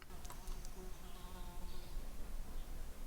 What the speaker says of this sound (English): There's a fucking fly buzzing around my head.